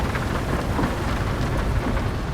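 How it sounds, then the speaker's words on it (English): Heavy rain pours in Euro Truck Simulator 2, a dense, steady roar heard through an open truck cab window with low rumbling underneath, no voices. "There's some heavy rain."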